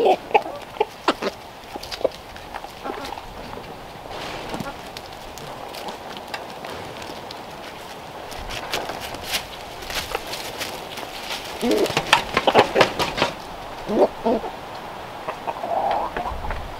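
A flock of farm chickens clucking at morning feeding time by a cabin, busy overlapping clucks and calls that swell louder near the end, with no talking.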